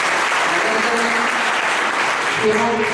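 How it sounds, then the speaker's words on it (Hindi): Loud, dense applause welcomes a guest at a coaching institute event about government jobs, filling the room evenly, with a faint voice underneath. "मैं चाहूंगा इनका जोरदार तालियों से स्वागत हो"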